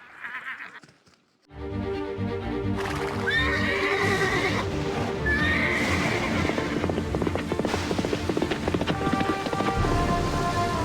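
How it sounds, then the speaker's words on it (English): White horse in the video game Atlantis 2, neighing loudly with shrill whinnies after a quiet start, over steady rain, hoofbeats and dense musical tones. "I think this is supposed to be Embar, a white horse that can travel over the sea"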